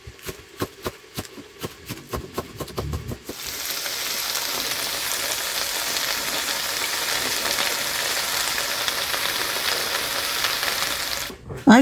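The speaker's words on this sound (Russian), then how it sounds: "Посыпаем солью. Жарим" Potatoes and minced meat sizzling in a frying pan, a dense steady crackle that starts after a run of sharp clicks and clatters, then hisses continuously up close before ending in a knock.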